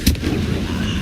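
One loud, sudden Confringo fire blast from Hogwarts Legacy, a sharp explosive crack that decays into a rumbling tail over about a second.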